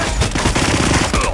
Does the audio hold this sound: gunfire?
yes